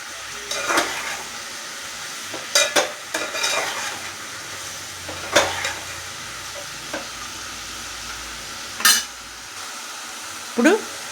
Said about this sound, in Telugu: ఇందులోకి కొంచెం అల్లం వెల్లుల్లి వేసుకుందామండి. వేసి